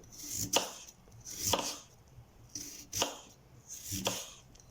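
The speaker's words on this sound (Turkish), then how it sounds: "Patateslerimi olabildiğince incecik incecik doğruyorum." Knife thinly slicing potatoes on a board in sharp, evenly spaced strokes, about four cuts, close and clear with no talking.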